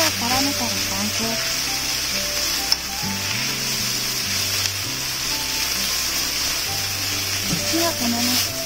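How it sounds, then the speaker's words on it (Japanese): Maru-chan yakisoba noodles with softened cabbage and sauce sizzle and fry steadily in a pan, a continuous hiss running under background music. "キャベツがしんなりしてきたら先ほどのタレを入れていきます。"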